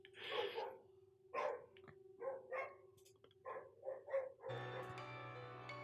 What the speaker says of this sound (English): dogs are going a little nuts out there